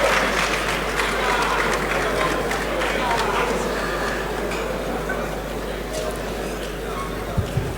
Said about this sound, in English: Please, a round of applause for Sikawo Bush.